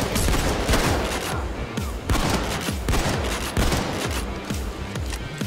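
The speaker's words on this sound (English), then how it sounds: "This is the hipfire shotgun." Shotgun fire in the video game Payday 2: loud, rapid repeated blasts that run almost continuously, dense and close with no pauses.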